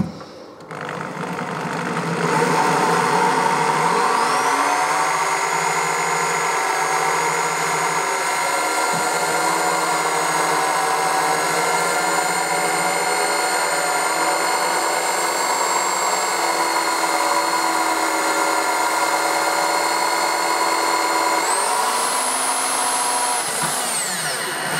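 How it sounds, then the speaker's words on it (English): A power drill drilling a hole in a car's oil sump whirs steadily and loudly for most of the clip, its pitch holding constant after spinning up, then briefly rising near the end. "So now it's time to drill this hole."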